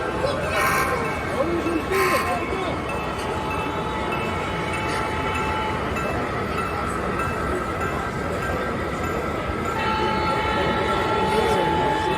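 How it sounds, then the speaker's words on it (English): A model train runs steadily at the Amherst Railway Hobby Show in Springfield, MA, a continuous rumble under a noisy crowded hall, with people talking throughout and brief squeals and tones. "there's another train."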